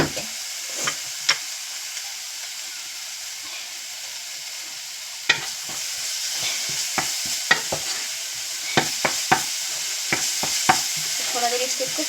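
Masala for a Fiji-style fish curry with coconut cream frying in a pan with bay leaf, a low steady sizzle under repeated sharp scrapes and taps of the stirring spoon.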